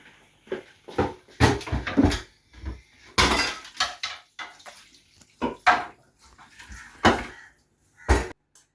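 Clattering kitchen sounds of a chopping board being washed after cooking, with irregular knocks, scrapes and splashy bursts at close range, no talk.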